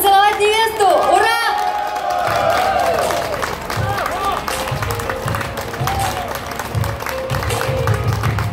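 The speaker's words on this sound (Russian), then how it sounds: "Еще ваших громких аплодисментов новой, крутой." Guests at a wedding ceremony in Georgia burst into applause and cheering, with whoops and shouts after a brief tonal flourish, sustained clapping continuing under an officiant's voice.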